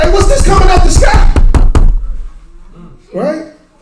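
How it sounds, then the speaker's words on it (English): Hard knocking and banging on a door, a rapid series of loud, close thumps over a murmur of voices, after which the blows stop and a few quieter voices speak. "You don't think people was banging on that door trying to get in?"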